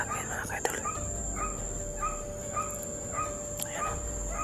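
A dog barks and yips in short repeated bursts at a steady pace, fairly close, over a constant high electronic whine and background hiss.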